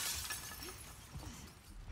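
Glass shatters in The Last of Us Part II, a faint, bright burst of breaking glass with a few scattered tinkling fragments, heard alone without talk.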